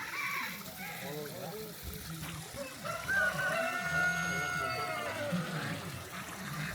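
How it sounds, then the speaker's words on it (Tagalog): Chickens cluck and a rooster crows at a distance, mixed with murmuring voices and trickling water in an outdoor setting. "Maraming manok"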